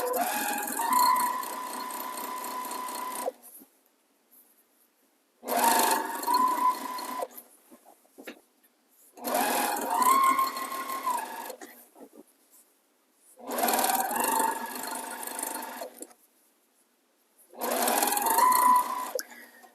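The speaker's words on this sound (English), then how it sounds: "I'm stitching a 1/4 inch seam allowance" A sewing machine stitching a quarter-inch seam to attach binding to a quilt, running in five steady bursts of a few seconds each with quiet pauses between them.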